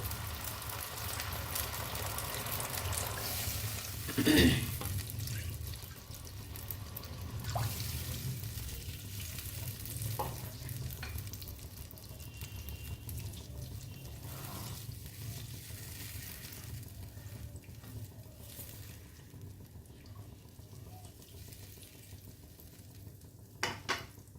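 Ground spice water is poured into frying masala for a pointed gourd curry, starting with a short splash and hiss that settles into a quiet, continuous simmering sizzle with faint pan clinks.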